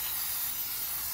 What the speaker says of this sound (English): Now I'm gonna use the wax and grease remover to remove the residues that these particles that I've scraped away